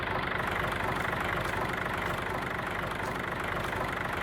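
A tractor engine idles in Farming Simulator 22, a steady, unbroken mechanical drone that holds at an even loudness throughout, with no other sounds over it.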